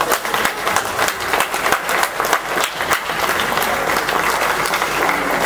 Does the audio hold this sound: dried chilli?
no